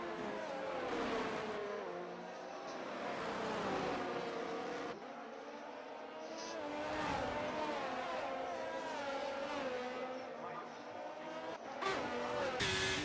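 Race cars in the F1 23 video game at the Dutch Grand Prix, engines droning and revving continuously as a pack of cars races, with shifting pitch and occasional gear changes throughout.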